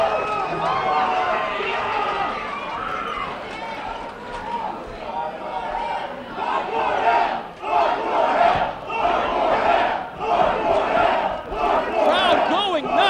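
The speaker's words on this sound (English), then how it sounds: "Crowd going nuts." A packed wrestling crowd at a Hardcore Hell 2002 title match roars and yells wildly, a loud sustained wall of shouting voices that swells in waves, with a commentator talking underneath.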